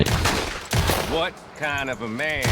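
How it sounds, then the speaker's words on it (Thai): Bursts of gunfire from a modded Red Dead Redemption 2 session at a camp, loud sharp volleys that break off and restart, with a voice calling out over the later shots. "นี่ก็เป็นมอดยิงปืนในแคมป์ได้นะครับ"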